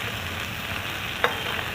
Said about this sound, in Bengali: এবারে আমি দিলাম আদা আর কাঁচা লঙ্কা, কারি পাতা,